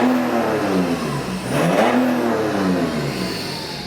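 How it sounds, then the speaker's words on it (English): A tuned BMW 430d with a big-turbo N57 six-cylinder diesel revs outside the car, a loud rising and falling burble with a throaty mid-range growl heard close by. "noisy from outside, sounds really nice, get a 6-cylinder burble"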